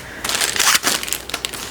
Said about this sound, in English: as I toss them around and spread them throughout the pan